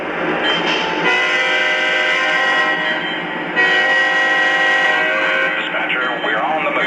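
A Lionel Norfolk Southern ES44AC model diesel locomotive's engine drones steadily with layered tonal hum and a brief horn-like swell, rolling out with a radio-style voice chatter faintly mixed in.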